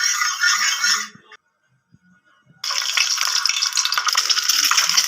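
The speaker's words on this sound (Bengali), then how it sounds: "এবার আমি এই তেলের মধ্যে প্রথমে ডিমটা ভেজে নেবো" An egg frying in hot white oil in a kadai, a loud, dense sizzle that cuts out briefly to near silence and then resumes just as strongly, close with no talk.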